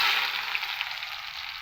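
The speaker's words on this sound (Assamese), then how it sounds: "তেলটো পকি হৈ গৈছে বৰ্তমান। এতিয়া পিঁয়াজখিনি মই দি দিম।" Onions frying in hot oil give a steady, close sizzle with a few soft pops, heard alone.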